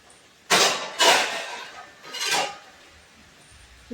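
A plate being set down in a kitchen while cooking chicken, three close, bright clattering knocks spaced irregularly, with quiet room tone between them.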